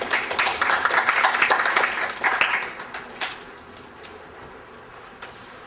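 Audience applause at a Jeju Forum seminar on high-speed rail as the head of the Korea Transport Institute is welcomed, a dense burst of clapping that fades out over several seconds into quiet room tone.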